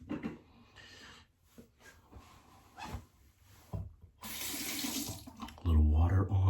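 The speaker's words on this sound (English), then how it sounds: "A little water on the head of this razor" Water runs from a tap to rinse the head of a safety razor during a wet shave, a steady broadband rush that swells in the second half after softer handling sounds and faint breathing.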